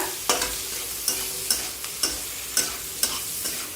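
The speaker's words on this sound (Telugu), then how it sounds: "ఒక వన్ మినిట్ ఫ్రై చేసుకున్నాక" Paneer fried rice ingredients fried in a pan, with a steady sizzle under regular scraping stirs, about six crisp strokes spaced roughly half a second apart, close and moderately quiet with no talking.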